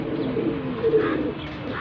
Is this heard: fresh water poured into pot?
no